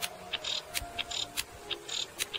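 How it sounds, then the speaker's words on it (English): A female cicada gives her mating call as a series of quick, sharp click-like pulses. They repeat in a fairly regular rhythm, sound faint to moderate, and come over a soft, steady background with no voices. "to sound like a female cicada,"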